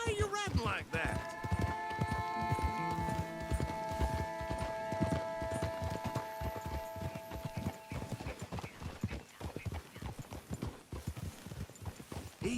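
Horse hooves galloping in Red Dead Redemption 2, a steady rapid clip-clop close up with occasional whinnies. The hoofbeats continue under a voice talking, set against sustained musical tones during the first two thirds.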